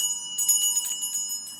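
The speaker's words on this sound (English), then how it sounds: "This bell is for all of you." A small hand bell rings in a series of quick bright jingles, close and clear against a quiet room with no talking.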